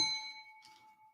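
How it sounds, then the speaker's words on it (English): A single bright notification bell ding rings out clearly, then its pure ringing tone hangs and slowly fades over about a second, with a faint soft touch midway. "We want you to trigger that bell"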